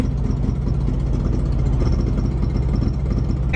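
A car engine idles steadily up close with the hood open, a continuous low rumbling drone with faint mechanical vibration and no voices.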